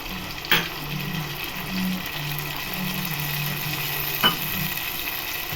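Tamarind water poured into a pan of sautéing onion and garlic for an egg curry, a steady close sizzle with soft liquid sounds and two brief sharp knocks, no talking.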